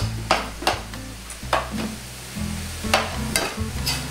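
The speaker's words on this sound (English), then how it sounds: "let's get our mushrooms right on top. Perfecto. And we want to get those all mixed into the party as well" Mushrooms being stirred into beef and pork frying in a pan for spaghetti bolognese: repeated scraping stir strokes over a steady close sizzle, with no talking.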